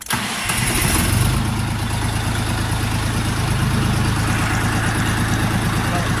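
A Dongfeng DF 244 G2 mini tractor engine cranks and catches, then settles into a steady, low, rumbling idle that continues evenly.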